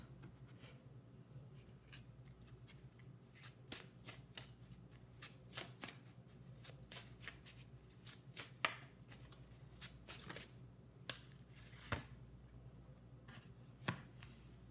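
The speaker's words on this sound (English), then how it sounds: "We're going to pull 3 cards, one for self, one for spirit, and one for connections." Tarot cards are shuffled and drawn for a reading, in quiet, close riffles and soft slaps that come in irregular bursts amid faint shuffling of the deck, without any talk.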